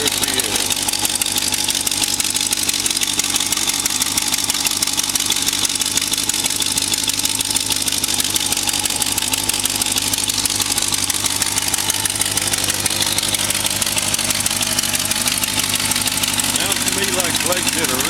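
A rebuilt car engine with a homemade exhaust manifold and a possible exhaust leak idles steadily and loudly up close, a constant broadband rumble with no change in pace.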